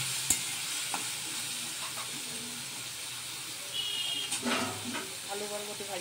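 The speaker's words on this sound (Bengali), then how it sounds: "বরবটি আলুটা ভালো করে ভাজা হচ্ছে কড়া করে।" Long beans and potatoes frying crisp in a pan, a steady hiss and sizzle with occasional stirring scrapes and clinks, fairly close and moderately quiet throughout.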